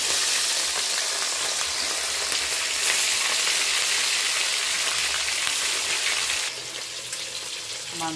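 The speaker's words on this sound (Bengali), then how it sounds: "তেলটা গরম হয়ে গেছে। আমি মাছগুলো এক এক করে তেলে ছেড়ে দিচ্ছি।" Pieces of fish frying in hot oil, a steady dense sizzle close by that runs throughout, with brief stirring and a shift in texture near the end.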